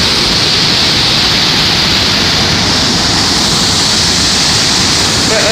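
A strong river rages down a waterfall in Mexico, a loud, dense, unbroken roar of rushing water that fills the whole stretch with no letup.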